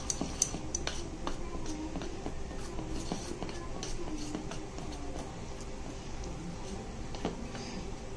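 Semolina and kheer being mixed into a no-maida malpua batter with a spoon, giving steady close scraping and light clinking against the bowl throughout, with no talking.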